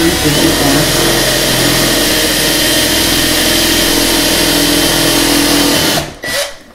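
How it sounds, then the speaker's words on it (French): A cordless drill driver in drill mode whirs continuously at high speed for several seconds, loud and close, boring a 6 mm hole for a kalimba resonator, then stops abruptly with a brief final spin-down. "C'est une visseuse, mais en mode perceuse."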